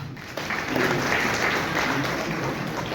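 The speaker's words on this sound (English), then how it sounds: "We all can clap for this." A gathering at a luxury apartment launch for DLF One Midtown in Delhi breaks into applause, the clapping swelling in after a brief quiet start and holding steady as a moderate, roomy wash.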